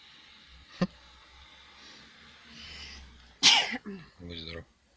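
A sneeze sound, presented as a scary caterpillar sneezing, comes as a sharp burst near the end after a small click, followed by a short voiced sound, over a low background hum.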